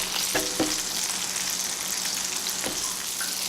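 Eggplant tuna omelette frying in a pan, a steady close sizzle with a few soft scrapes and knocks from a wide turner as it is flipped.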